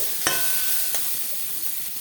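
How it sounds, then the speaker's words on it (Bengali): Banana stem (thor) frying in a pan with cumin, giving a steady close sizzle broken by a couple of sharp scraping stirs, with no voices. "ভালো করে ভেজে নাবিয়ে নিতে হবে"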